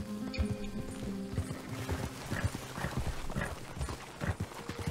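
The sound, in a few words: horse hooves in video game Red Dead Redemption 2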